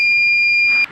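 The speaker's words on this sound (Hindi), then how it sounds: "ग्रीन सेंसर को पानी टच करते ही ये वो आपको अलार्म देगा और अलार्म देकर पंप को ऑफ" A Swarn Jal WL-S-CO wireless water level controller sounds its tank-full alarm, a loud, steady, piercing electronic tone held close for nearly a second before cutting off abruptly.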